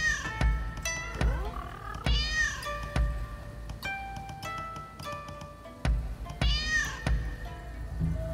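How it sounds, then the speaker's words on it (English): Cat meows in the video game Rise of the Ronin, several drawn-out, strained-sounding calls repeating every second or two over a low game background, loud and close with no talk. "The cat always sounds like it's in pain, the meow."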